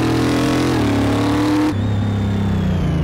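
Car engine in Car Mechanic Simulator 2018 revving loudly on the test track, a steady strong drone that dips and shifts pitch partway through as it changes gear, no talk over it.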